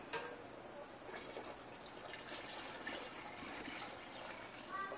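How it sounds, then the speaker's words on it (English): Broth pours steadily into a kettle for a red pasta sauce, with a soft, continuous splashing, fairly quiet and close by. "I'm going to just go ahead and pour this right into the kettle"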